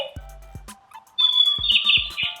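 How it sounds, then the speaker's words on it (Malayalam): A toy bird gives short electronic chirps and tweets, a few quick close chirps followed by a brighter trilling warble, with no one talking. "ആ ചെറുകിട്ടടിക്കുന്ന ശബ്ദം കേൾക്കുന്നുണ്ട്"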